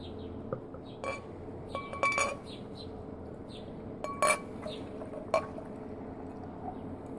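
Soft glassy clinks and a faint pour sound as a beer bottle, a 6.6% ABV brew, is handled and poured into a glass, quiet and close with scattered chinks over a low background hiss.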